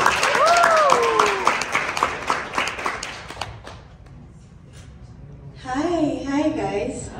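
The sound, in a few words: audience applause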